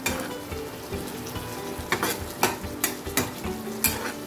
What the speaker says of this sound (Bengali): মশলাটা আমার এখন কষাতে হবে ভালো করে